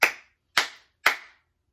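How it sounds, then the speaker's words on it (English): A group claps in unison three times, each clap a sharp burst about half a second apart, with a brief decay and no talk in between. "On the count of 3, we're going to clap 3 times."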